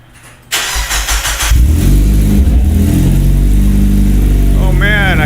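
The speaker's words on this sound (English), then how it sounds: "first fire up with his new exhaust" A Mazda Miata NB with a new ISR exhaust cranks and fires up after a brief quiet moment, then settles into a loud, rumbling idle with a few revs, close by, while people talk and exclaim over it.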